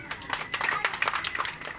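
Audience applause at a nighttime crusade gathering in Mati, Davao Oriental: a dense, steady patter of many hands clapping, fairly loud and continuous throughout, with a voice talking over it.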